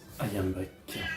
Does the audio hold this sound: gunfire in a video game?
no